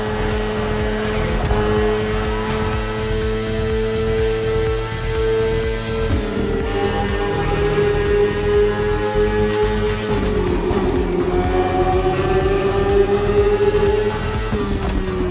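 A BMW S1000RR superbike engine in a racing video game drones steadily at high revs, pitch shifting with gear changes, loud and continuous as it races along.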